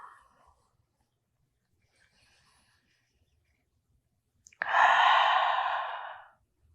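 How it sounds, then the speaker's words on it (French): Slow, deep breathing during yoga child's pose: a soft breath at the start, a long stretch of near silence, then one loud, drawn-out exhale that fades after about two seconds. "On va s'offrir au moins 3 respirations ici ou dans la posture de l'enfant"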